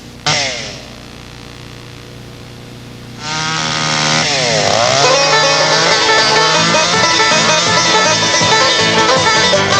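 A chainsaw runs loud and close while a chainsaw sculptor carves a log, idling briefly before revving hard into steady cutting with shifting pitch; background music or talk may sit underneath.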